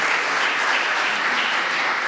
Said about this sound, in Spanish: Así que un aplauso para nuestro todo, Alejandro Muñoz.